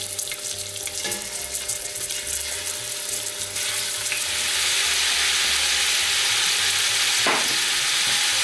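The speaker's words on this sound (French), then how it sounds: "Et je vais mettre mes morceaux de viande à colorer sur toutes les faces." Pieces of meat sear in olive oil inside a pot, a steady loud sizzle and crackle running throughout with occasional stirring clatter, intensifying slightly midway.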